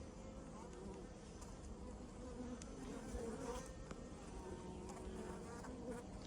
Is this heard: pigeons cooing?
no